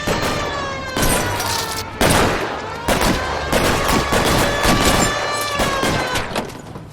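Gunfire in the crime video game L.A. Noire: a loud, sustained fusillade of overlapping shots and bursts with echoing tails, running steadily throughout with no clear voices.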